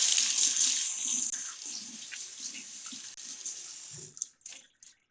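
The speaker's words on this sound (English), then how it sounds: "Rinse off the hands." Water from a kitchen tap runs steadily while hands are rinsed during soup preparation, a continuous close hiss that tapers off and stops near the end, with a few drips and clanks after.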